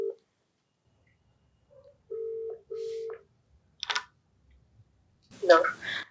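A telephone places a call, giving a few short, evenly pitched dialing beeps in a quiet room. A brief voice is heard at the end.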